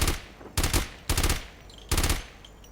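A gun in the mobile shooter Call of Duty Mobile fires in four short, loud bursts of rapid shots, separated by brief pauses.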